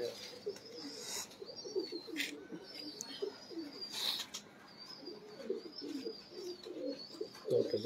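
Pigeons kept by a fancier coo in steady low rolling phrases close by, with chirps and occasional short sharp noises, and no talk.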